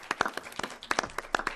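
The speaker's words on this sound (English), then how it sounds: "let's please give him a warm applause" A small, scattered round of applause at a school board meeting for an award recipient, with a handful of separate claps rather than a full ovation.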